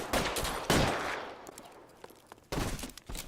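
Gunfire in the video game L.A. Noire: loud broadband shots crack out in a quick burst, fade into a quieter stretch, then return in a second flurry near the end, with no voices over them.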